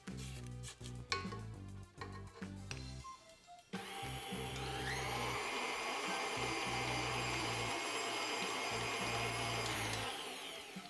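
An electric stand mixer churns rainbow sprinkle cookie dough on slow speed, a steady whirring motor hum that starts after a few seconds of clattering and runs evenly to the end, fairly close and alone.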